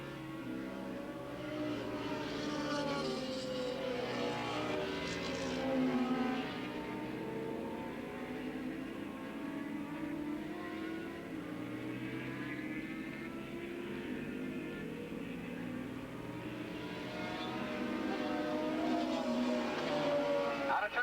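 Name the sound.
Formula 1 class race motorcycles at Willow Springs Raceway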